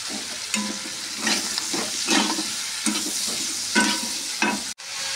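Chicken pieces for chili chicken sizzling steadily in hot oil, close and loud, with repeated stirring strokes and a sharp clank near the end.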